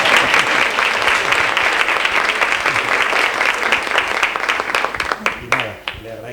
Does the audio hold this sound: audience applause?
yes